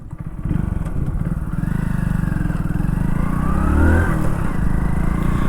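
A 2023 Hero Splendor Xtec motorcycle rides along with a steady, close engine drone that builds slightly in pitch as it accelerates, continuous and loud with no talking over it.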